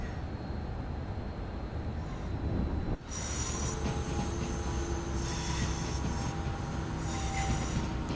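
Avanti West Coast train in Train Sim World 5 pulling into Lancaster station on the West Coast Main Line, a steady rumble of rolling wheels and rail noise with a brief break partway through.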